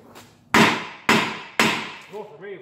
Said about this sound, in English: Now let's drop this knuckle out of here. A couple of taps will come right out